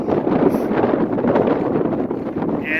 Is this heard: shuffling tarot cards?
no